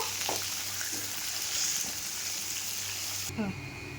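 Garlic fries in a pan for dried fish thokku, a steady close sizzle that cuts off near the end as a voice briefly speaks.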